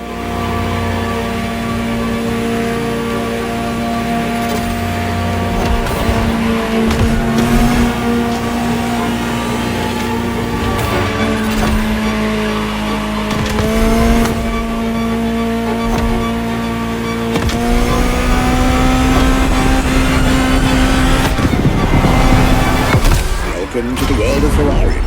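A Ferrari supercar engine in the video game The Crew Motorfest roars continuously, its pitch climbing and dropping through gear changes, loud and close throughout.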